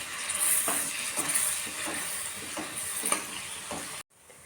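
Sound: ginger garlic paste sizzling while sautéed in hot oil

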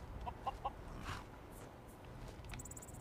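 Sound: chickens clucking in a video game

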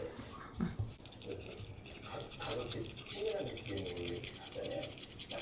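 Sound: brushing a dog's teeth with a toothbrush

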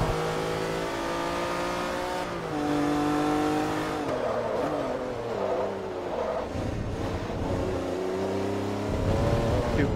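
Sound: Lamborghini race car engine in Forza Motorsport 3 video game

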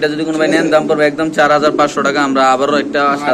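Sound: Bombay pigeons cooing at a pigeon farm

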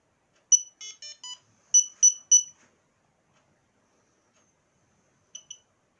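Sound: search beacon beeping when switched on

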